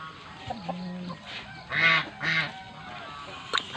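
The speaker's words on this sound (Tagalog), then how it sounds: "Ayan yung gansa." Geese on a farm honk in a few loud, nasal bursts, two strong calls close together in the middle, over a low background murmur, with no talk.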